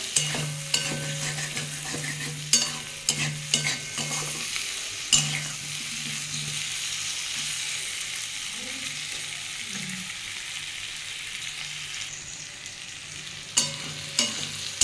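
Masala with potato and parwal being sautéed in a pan for a light fish jhol, a soft continuous sizzle broken by intermittent scrapes and taps of a spatula, fairly quiet and close, with no voices.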